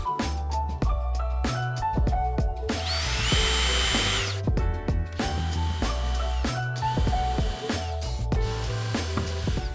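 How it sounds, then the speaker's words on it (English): A power drill whirs into cedar wood in a loud burst with some shorter spins, over a busy, rhythmic mechanical clatter. "I'll first need to pre-drill so I don't split the wood"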